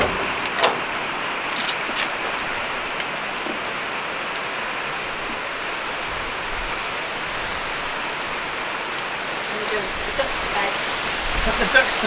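Steady rain pattering on surfaces all around, a constant hiss with scattered drips and taps, continuing without a break.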